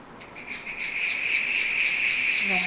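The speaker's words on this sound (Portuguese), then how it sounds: "o canto da cigarra" A cicada sings in a steady, loud, piercing buzz that swells over the first half-second and then holds close and continuous, evoking a summer evening in the countryside.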